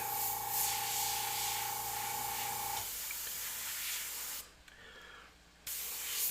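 An airbrush sprays paint freehand in a soft steady hiss with a faint tonal hum under it, changing character partway through and cutting out briefly near the end before resuming.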